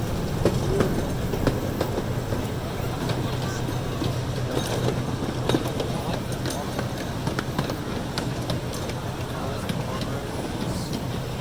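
Amusement park train ride at Lake Winnie, a steady rolling rumble with faint rhythmic clicks from the cars, continuous and fairly close throughout while talk runs over it.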